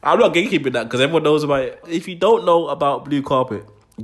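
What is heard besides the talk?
No everyday noises stand out.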